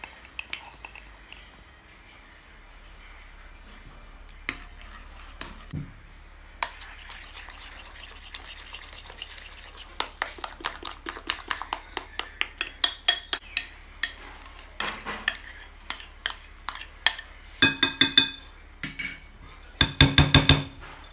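A spoon or whisk scrapes and clinks against a bowl while mixing butter, sugar, eggs and matsoni with soda into gata batter. It starts with sparse knocks, then becomes steady rhythmic clinking that grows louder and denser toward the end.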